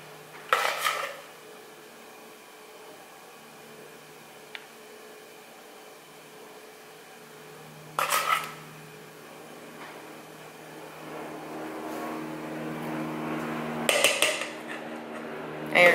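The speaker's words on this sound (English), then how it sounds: "you're just gonna keep doing that until all of the mixture is obviously in a muffin tin" Spoon scraping and clinking against a metal muffin tin while chocolate muffin batter is portioned out, three sharp metallic knocks spaced several seconds apart over a quiet kitchen hiss.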